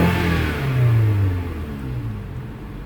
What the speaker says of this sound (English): if I snap the throttle, I should see a spike